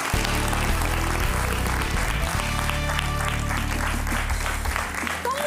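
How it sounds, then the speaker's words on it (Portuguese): A television studio audience applauds steadily to welcome a guest, a dense continuous wash of clapping with music playing underneath. "Vamos receber com um grande aplauso o nosso cabaz de surpresa"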